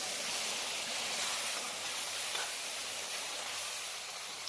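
Mutton cooking water poured into a pan of Telugu mutton pulusu, a steady broad rushing hiss that holds level for several seconds, close and fairly soft, with no voices.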